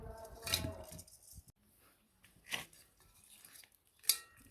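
Kitchen scissors cut and clean live small giant freshwater prawns, their legs still on. Three sharp, separate snips come at uneven gaps against a quiet background, with faint handling noises in between.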